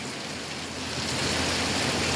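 Steady heavy rain pouring down, a dense continuous hiss that swells slightly louder partway through, with no voices.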